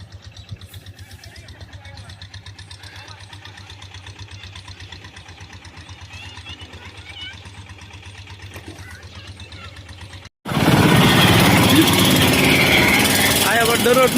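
Tractor engine idling with a steady low mechanical chug that runs on unchanged for about ten seconds, then a sudden loud burst of broadband roar takes over.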